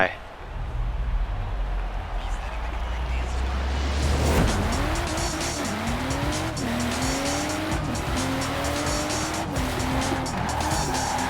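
A BMW M4 Coupe in Forza Horizon 4 braking hard, its engine droning before the tires break into long wavering squeals that rise and fall repeatedly, with a voice talking excitedly over it.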